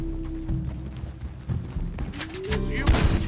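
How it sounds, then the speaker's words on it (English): Gunfire in the video game Red Dead Redemption 2, bursts of shots over horse hooves clip-clopping, with in-game dialogue and a brief spoken word layered on top. "Can we have one day without gunfire?"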